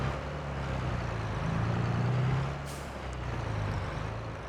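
A heavy farm vehicle engine in Farming Simulator 22 drones steadily with a low, deep rumble that swells in the middle, plus a brief hiss partway through, with no talking.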